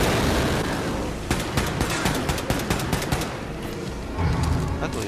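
Enemy gunfire in Wolfenstein 2, rapid loud bursts of automatic shots cutting through constant combat noise, with a steady rattle in the middle and heavier battle sounds returning at the end.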